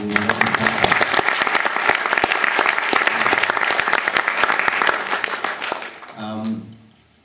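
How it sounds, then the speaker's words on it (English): Loud, sustained applause from a large crowd, dense clapping throughout that tapers off near the end, with a few voices rising briefly as it fades. "So a big round of applause again to"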